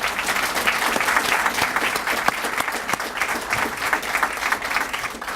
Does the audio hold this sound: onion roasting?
no